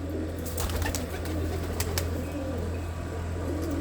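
Pigeons coo softly amid a steady low hum, with a few faint wing flutters and scattered clicks in the background.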